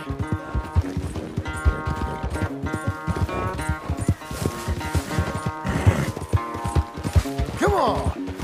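Horse hooves clip-clop through a game of Red Dead Redemption 2, a steady stream of hoofbeats mixed with harmonic background music and clattering effects that rise and fall throughout.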